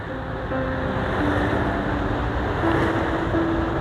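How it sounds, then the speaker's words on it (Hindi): Fast, high-pressure river water rushing through the Head Qadirabad barrage, a loud constant roar of churning flow with a faint steady tonal hum underneath and no speech. "बहुत ज़्यादा तेज़ पानी है।"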